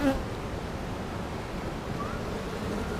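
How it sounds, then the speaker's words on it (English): Honeybees buzz steadily throughout a beehive inspection as frames are handled, a continuous diffuse hum close by with no voices. "I'm just trying to knock down some bees off this frame here"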